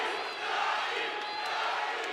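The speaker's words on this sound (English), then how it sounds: "The crowd is no doubt behind him." A crowd at a boxing match cheers and shouts in a steady, sustained roar. It sounds fairly distant, with no break.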